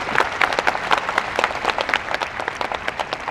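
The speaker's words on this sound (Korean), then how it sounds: "전남시청 공무원분들에게 부탁드리겠습니다" Large audience at a public talk event applauds city hall civil servants, a lively burst of many hands clapping with distinct, rapid sharp claps throughout, close and fairly loud.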